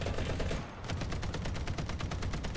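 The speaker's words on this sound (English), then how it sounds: "they updated the 50 cal sound" Rapid, sustained bursts of a .50 cal machine gun firing in the War Thunder video game, loud and close, with a steady rhythm of shots after a brief break near the start.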